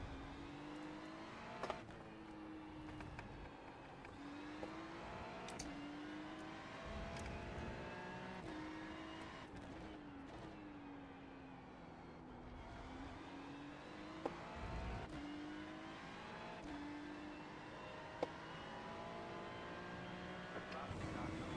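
Ferrari GT3 race cars in a racing video game at Interlagos, engines droning steadily with rising and falling revs and gear shifts, a few sharp clicks over the continuous multiclass traffic.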